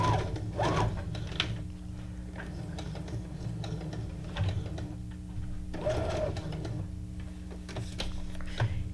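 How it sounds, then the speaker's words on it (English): A sewing machine runs a straight stitch while finishing junk journal pieces, a close, steady mechanical whir with rhythmic needle ticking that pauses and restarts a few times, no talk. "go around here with a straight stitch"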